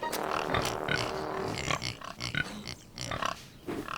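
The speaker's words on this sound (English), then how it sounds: "Thomas liked their curly tails and the funny noises they made." Pigs grunting and oinking on a cartoon pig farm, a series of short snorting grunts over a musical score, fairly close and lively.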